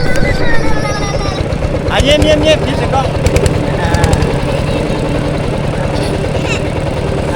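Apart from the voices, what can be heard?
two-wheel farm tractor engine running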